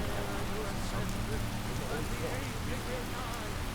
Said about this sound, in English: Imperial soldier running away from the rain.